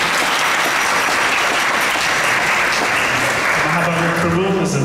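An audience at an ISKCON talk in Toronto claps for a speaker, giving dense, loud, continuous applause for several seconds, with a voice starting to speak near the end.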